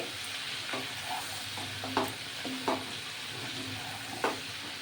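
Vegetables sizzle and fry in a pan for a Bengali niramish labra, with a steady hiss and several sharp scraping clinks as a spoon stirs them.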